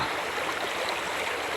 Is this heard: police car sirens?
no